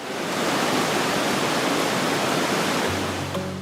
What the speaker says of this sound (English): this river doesn't tiptoe through the forest. It charges through it.